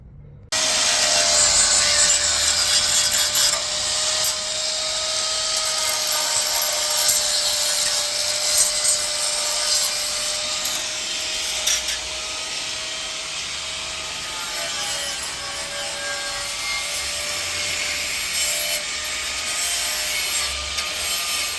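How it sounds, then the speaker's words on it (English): Steady abrasive scraping of sanding surface rust off a BMW E30 325i's metal body, continuous and fairly loud throughout, with a faint high whine running underneath. "They're just sanding off some surface rust and filling in some spots"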